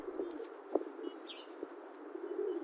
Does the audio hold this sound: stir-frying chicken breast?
no